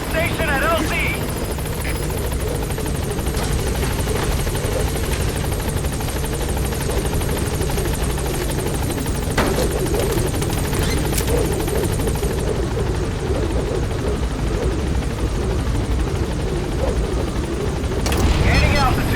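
The Pequod helicopter from Metal Gear Solid 5 approaches with a loud, steady rotor thrum and engine whine that swells near the end, while radio voices talk over it.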